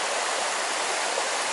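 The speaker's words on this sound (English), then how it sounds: "river flowing down from the mountains." A pristine mountain river in the northwestern Scottish highlands rushes steadily downhill, a loud, continuous broadband wash of flowing water with no voices over it.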